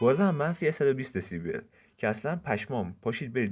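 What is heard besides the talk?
No everyday noises stand out.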